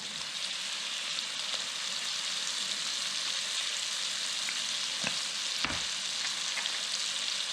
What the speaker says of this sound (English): going to start off by caramelizing some onions. Add some sugar. Add some salt.